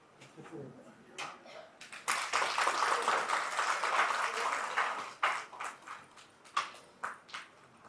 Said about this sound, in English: I request our audience to kindly give a big round of applause.